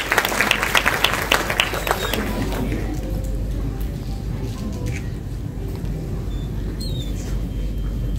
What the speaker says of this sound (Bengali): আরো একটু জোরে করতালি চাই আপনাদের সকলের কাছ থেকে